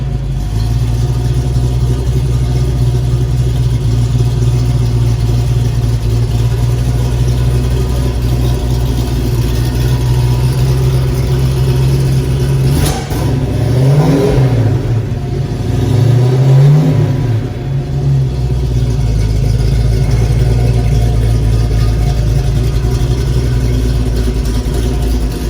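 A 1970 Ford Mustang Mach 1 with a brand new engine idles loud and steady close by, then blips through a couple of quick revs midway before settling back into its rumbling idle.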